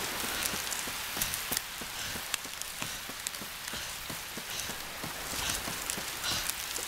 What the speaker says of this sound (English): Rain noises?